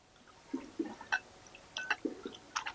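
Wet squelching and dripping as raw fish fillets, washed until free of blood, are squeezed and kneaded by hand with starch; several short soft squishes come close up in a quiet setting.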